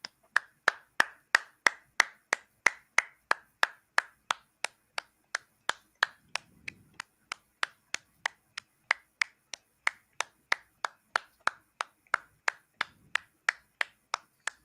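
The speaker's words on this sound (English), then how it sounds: "What's the clapping for?" A single pair of hands claps slowly and evenly, dozens of sharp, crisp claps at a regular beat close to the listener in an otherwise quiet room.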